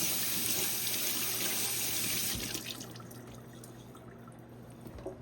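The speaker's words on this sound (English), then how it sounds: "head on over to the sink and just give these guys a good rinse." A kitchen sink tap runs as items are rinsed under it, with a steady close rush of water that cuts off about halfway, leaving faint drips and quiet handling noise.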